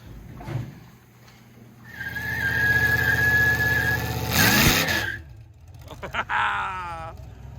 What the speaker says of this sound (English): Dusty gave us a small trailer burnout